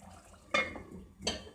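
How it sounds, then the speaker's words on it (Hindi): Two or three spoonfuls of water splashing into a pot of chicken dum kebabs cooking in a karahi, two quick pours roughly a second apart, close and moderately loud. "मैं थोड़ा सा पानी ऐड करूँगी"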